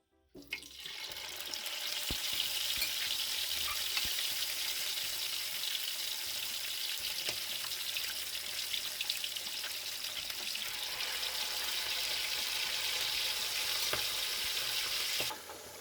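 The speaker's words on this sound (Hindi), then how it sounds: "तेल को हमने गरम कर लिया है। हम इसमें डालते हैं बोटियां।" Mutton pieces drop into hot oil and fry with a loud, dense, continuous sizzle that starts abruptly and holds steady for the whole stretch, close and unbroken by speech.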